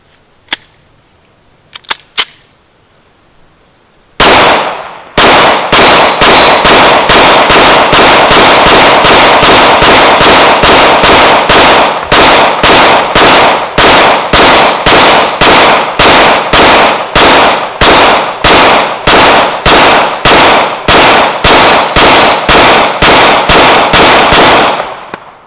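A Glock 19 fed from a KCI 50-round drum magazine fires a long, evenly spaced string of loud, sharp shots at close range after a few isolated clicks.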